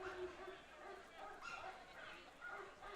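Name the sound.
dog barking sounds played over stadium speakers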